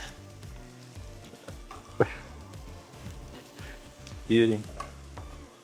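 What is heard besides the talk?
sautéing in a pan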